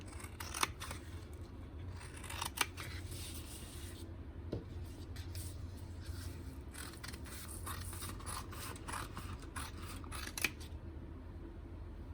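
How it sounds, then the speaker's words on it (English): Scissors snip through a dried, painted paper swatch in a quiet room, giving soft, close, irregular cutting and rustling sounds spread across the stretch without speech. "this is like pretty much dry, so I'm gonna cut it out"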